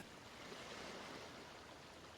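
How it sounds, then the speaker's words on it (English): Ocean tide washes gently against mangrove roots as a soft, continuous rush of water. The wash stays even and unbroken throughout, with no voices. "the gentle rhythm of the ocean's tide softly washes against them"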